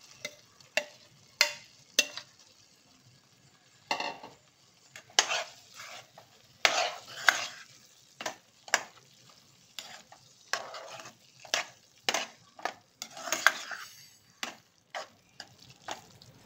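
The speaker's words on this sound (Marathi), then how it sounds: "आपण जे चिकनचे पीस फ्राय केले होते ते याच्यात मिक्स करून घेऊ." Fried chicken pieces are stirred into a butter chicken masala, a series of irregular scraping and clattering strokes of a spoon in the pan over a faint background sizzle.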